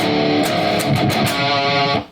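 An electric guitar plays a breakdown riff, a short, loud, dense passage of strummed hits that rings for about two seconds before cutting off cleanly, with no talking.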